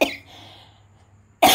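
Two sharp coughs, one at the start and a louder one at the end, separated by a short quiet breathy pause.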